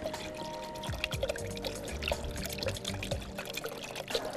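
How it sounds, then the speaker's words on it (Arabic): Cold water poured steadily into a container for making jelly in a home kitchen, a close, continuous trickling pour with bubbly splashes and no talking. "هحط بقى ميه ساقعه علشان يبقى جاهز على طول."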